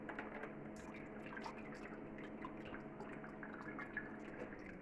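Pear syrup for an Old Fashioned cocktail strained through a sieve, giving a steady close trickle and patter of liquid dripping throughout, with no talk.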